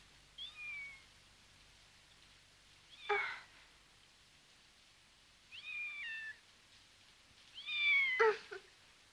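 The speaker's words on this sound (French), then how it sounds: "sous sa couette, elle a mis le chat qu'elle a trouvé et elle essaie de le réchauffer" A found cat warmed under a duvet meows in a few separate bursts, plaintive rising-and-falling cries spaced across the moment, fairly close and clear with no talking over them.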